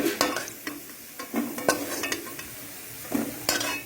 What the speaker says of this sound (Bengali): আলুগুলো যখন ভেজে লাল লাল হয়ে আসবে তখন নামাবো।